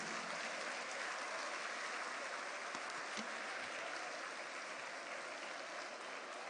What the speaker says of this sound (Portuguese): Você podia dar uma salva de palmas para esses jovens vitoriosos?